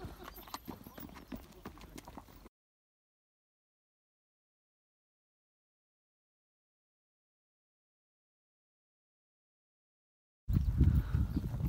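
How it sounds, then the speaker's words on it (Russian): Hooves of a white Camargue horse clop along at a walk in the Camargue wetlands of France, a steady moderate rhythm heard near at the start and again at the end, with a long silent gap between. "Это камаргская лошадь."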